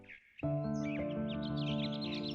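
A cartoon crow caws in an animated Telugu fairy tale, a short harsh call rising over a sustained musical backing that begins abruptly and carries on to the end.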